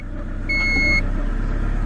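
A Honda CRX with all-wheel drive and a new fuel pump idles close by, a steady low rumble with a brief high tone partway through and no voices.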